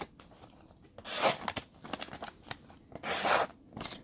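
A thick, sharp ornamental knife slices through material in two main rasping cuts, each a short bright scraping burst, with quieter crackling and rustling between them; no voices.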